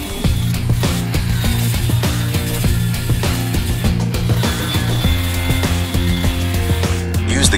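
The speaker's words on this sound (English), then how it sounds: "Avoid overheating the blade by grinding in 2 passes if needed." A grinder sharpens the blades of a mini blade rotor tool, making a steady, loud mechanical drone with repeated rhythmic ticking and scraping contacts throughout, close by and without talk.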